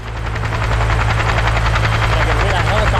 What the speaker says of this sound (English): I could hear that helicopter coming